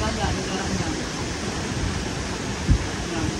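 River water rushing steadily at an outdoor swimming spot, a continuous broadband wash with no pauses, fairly loud and close, with a brief louder splash-like burst near the end.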